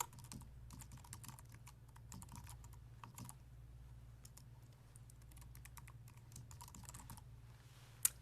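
Someone types an email address on a computer keyboard, quick, light key clicks in uneven bursts over a low steady hum, with no talking.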